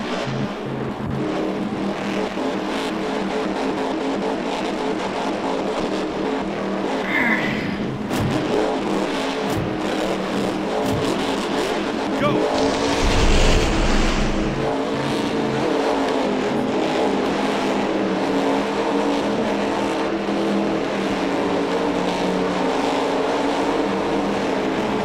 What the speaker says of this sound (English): we are going to be using the Gravedigger Monster Jam truck